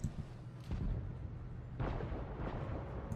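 A tank cannon in World of Tanks Blitz fires: two deep, muffled booms about a second apart, each leaving a low rumbling tail, fairly quiet and with no voices.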